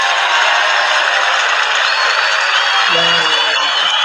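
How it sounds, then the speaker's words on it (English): Round of applause from a live crowd at a wrestling event celebrating the Hardy family, a steady broadband clapping wash filling the whole clip with faint crowd noise and a brief voice near the end. "Round of applause."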